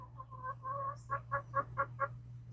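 Chicken clucking inside a coop, a quick run of soft clucks followed by about six evenly spaced louder clucks at close range, over a low steady hum.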